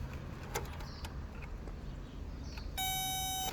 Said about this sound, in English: I'm going to take my test probe and I'm going to install it here. Continuity.